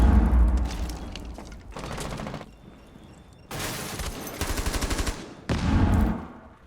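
Gunfire in Rainbow Six Siege: several rapid automatic bursts separated by short pauses, loud and close, with a quieter stretch of mechanical clatter in the middle.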